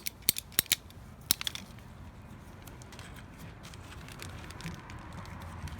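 Several crisp snips as drip irrigation tubing is cut with a cutting tool, a quick cluster of close clicks early on, then a steady low outdoor hum.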